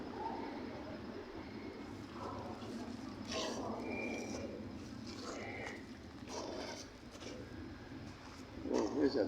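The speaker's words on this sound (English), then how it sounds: "the bird's talking right now to us at the top of the tree" A bird calls from high in a treetop in a park bird sanctuary, a few soft cooing notes rising faintly over a steady outdoor background with no talk.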